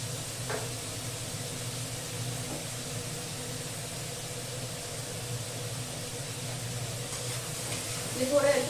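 Vegetables sizzle lightly in hot oil in a home kitchen, cooking for a pasta dish; a steady, close, low frying hiss runs throughout, briefly louder near the end.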